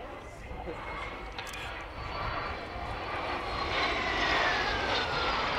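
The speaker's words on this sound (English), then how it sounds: "this aircraft doing its display at between 250 and 300 knots" Vintage jet aircraft such as a Vampire, Venom or Meteor making a display flypast at an air day, a distant roar that swells steadily louder as it approaches, with some faint crowd noise.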